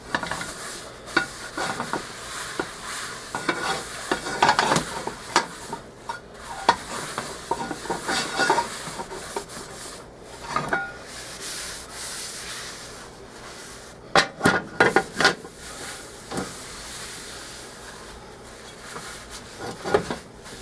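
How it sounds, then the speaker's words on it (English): A cloth rubs over a cast iron pan during seasoning, a dense continuous scrubbing and scraping with irregular louder strokes, close and busy throughout, no voices. "We'll wipe it right back down."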